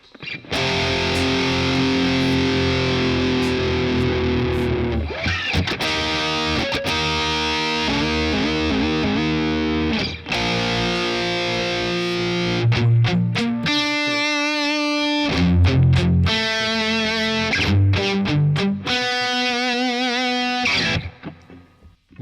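Distorted electric guitar plays the pre-chorus riff of a song, with loud sustained power chords and chugging palm-muted phrases through effects, close and alone for about twenty seconds.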